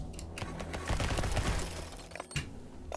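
Rapid gunfire and explosions from the base-defense video game Lumencraft, with dense bursts of cracking shots and booming blasts that swell in the middle and end with a sharp final crack.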